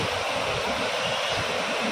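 Loud, steady rushing of muddy river water in Wayanad, a dense continuous roar with no pauses and no voices.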